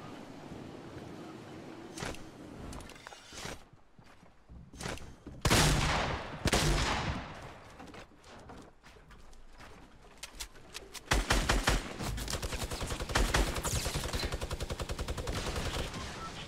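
Fortnite Battle Royale gunfire, including minigun fire, heard as scattered sharp shots early on that give way to a loud, rapid, sustained burst of continuous fire in the second half.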